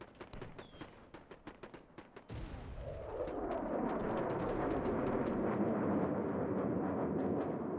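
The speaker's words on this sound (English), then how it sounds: "Listen roar of the Soviet guns." Soviet cannons fire in a WWII real-time strategy game: rapid sharp shots in a fast volley, then a heavy blast that swells into a long, loud rumbling roar.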